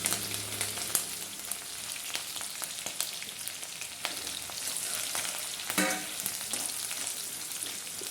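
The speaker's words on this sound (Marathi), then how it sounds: "मिरची चांगली फ्राय करायची आहे" Steady crackling sizzle of green chillies frying in hot oil, continuous and close, with a few louder pops and spatters and no voices.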